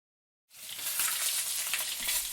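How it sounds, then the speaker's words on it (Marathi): Peanuts roasting in hot oil in a pan, a bright continuous sizzle and crackle that bursts in suddenly after a brief silence and stays loud and close. "शेंगदाणे कडक भाजून घेऊ."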